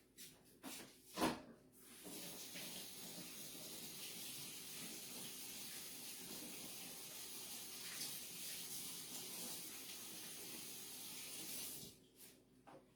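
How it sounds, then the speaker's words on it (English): A tap runs steadily for hand washing in a kitchen, a soft, even splashing hiss lasting several seconds, framed by brief handling knocks at the start and end. "I'm going to just wash my hand real quick"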